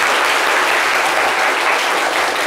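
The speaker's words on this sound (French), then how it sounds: "est-ce qu'on peut l'applaudir très très fort?" Audience clapping loudly and continuously throughout a short stretch, a dense steady applause with no talk over it.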